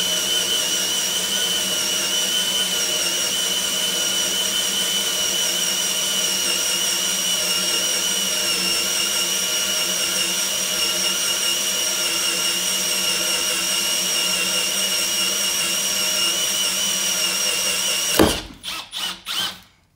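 A Milwaukee M12 hammer drill turns a 1.5 inch hole dozer saw through material in a steady, loud, continuous whine. Near the end it stutters in a few short bursts and then stops.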